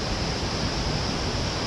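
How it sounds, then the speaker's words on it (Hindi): Waterfall in Darma Valley, Uttarakhand, heard as a dense, unbroken roar of rushing water that fills the short stretch at a constant close level with nothing else over it. "उससे पहले झरने के मजे लो।"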